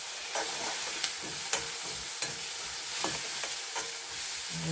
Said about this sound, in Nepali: मजाले फ्राई गरिदिनुहोस् हो साथीहरू।